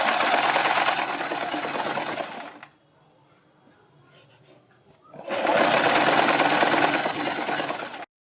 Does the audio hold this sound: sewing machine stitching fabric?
yes